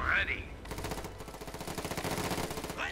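Fallschirmjäger infantry open fire in a street battle in Company of Heroes 2, heard as rapid, evenly paced bursts of rifle and machine-gun fire that run almost continuously, moderately loud, with a brief whooshing effect at the start and end.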